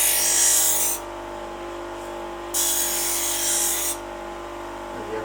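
A cheap bench grinder wheel sharpens a blade, two loud bursts of high grinding hiss, each about a second long, over the steady hum of the running motor.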